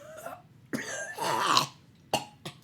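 A voice imitating a fantasy character coughing up blood, with several harsh, wet coughs and a gurgling, throaty hack between them, close and fairly loud.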